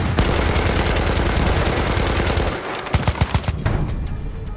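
Machine gun fire in the video game Battlefield 1 at Amiens, a loud rapid burst of automatic shots close by, followed by a few separate heavy booms as the firing trails off.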